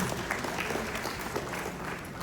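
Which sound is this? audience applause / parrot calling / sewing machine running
audience applause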